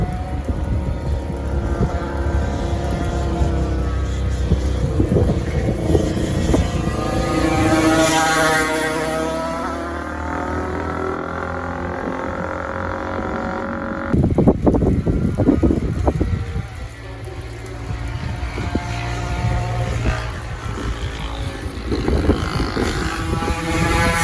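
Race motorcycle lapping a wet track in the rain, the engine rising and falling as it passes through corners and straights, loud and close with steady wind rush over it.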